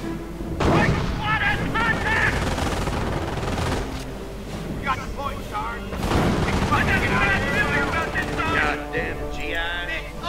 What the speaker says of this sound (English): Even the mortars are better shots than your direct fire cannon